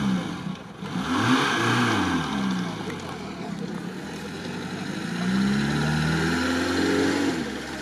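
A Lada Niva struggling through deep sand, its engine revving hard and rising and falling in pitch as it strains, loud and close throughout with a brief murmured voice near the start.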